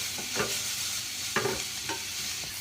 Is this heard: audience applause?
no